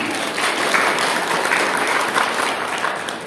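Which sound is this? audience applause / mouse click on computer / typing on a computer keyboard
audience applause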